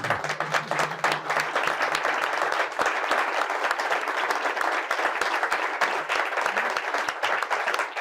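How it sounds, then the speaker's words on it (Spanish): At a Madrid book presentation the audience gives a warm round of applause, steady and close with individual claps distinct, while a brief voice sounds at the start. "¿Podemos aplaudirle?"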